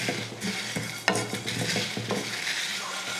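Cumin and dried red chillies dry-roast in a pan for a brinjal, drumstick and potato kara kulambu, giving close, steady scraping stirs over a soft, continuous sizzle with a few sharper clinks.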